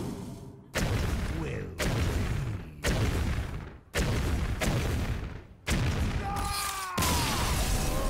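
Hearthstone video game explosions from Mad Bomber and Dark Bomb, a series of about seven loud booming blasts in steady succession, each with a rumbling tail, the last ones layered with whistling game effects.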